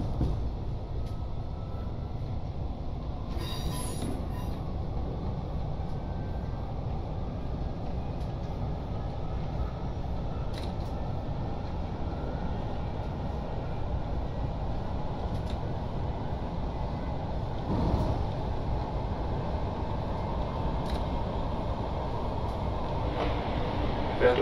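Regional RE 3 train in Train Simulator Classic rolling toward Mainz Hauptbahnhof, a steady low rail rumble and wheel drone that holds evenly throughout, with a few faint clicks and rattles over the top.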